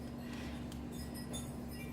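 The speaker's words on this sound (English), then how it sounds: "there are wind chimes going crazy outside" Wind chimes clinking outside on a very windy day, faint scattered metallic tinkles ringing over a steady low hum and background noise.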